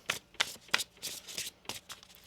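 Quick bursts of tarot cards being riffled and shuffled, several close, crisp flurries in a row with short pauses between them.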